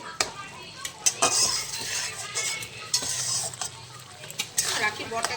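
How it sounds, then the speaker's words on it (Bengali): Dried lote fish is stir-fried hard over high heat, with a steady sizzle under repeated sharp metallic scrapes and clinks of a spatula against the pan, close and rhythmic. "এবার জিনিসটাকে ভালো করে আমি একটু কষিয়ে নেবো জোরে আঁচ দিয়ে।"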